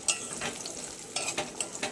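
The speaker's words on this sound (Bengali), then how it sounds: "আলুটা ভেজে নিচ্ছি" Potatoes frying in a pan for a Bengali bottle gourd and prawn dish, a soft sizzle broken by several scraping stirs of a spatula, close and fairly quiet, no voices.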